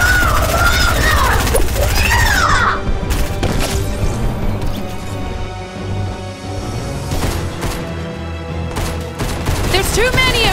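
Gunfire in the Fortnite video game, dense bursts of shots and crashes in a loud, chaotic battle mix with voices shouting over the action throughout.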